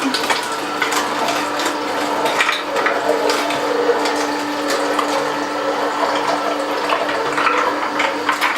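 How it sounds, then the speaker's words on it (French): Almonds and water being added alternately into a machine for homemade almond milk, giving continuous loud watery pouring and gurgling with scattered knocks and rattles, close by and with no talking. "j'alterne en mettant des amandes et de l'eau"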